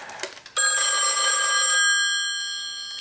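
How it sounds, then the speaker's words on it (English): Western Electric 1A2 key system telephones ring together loudly after a dial tap, a bright metallic bell burst that holds for about a second and a half and then decays away, with one faint extra ring near the end. "I'm going to dial 24, and they're all going to ring"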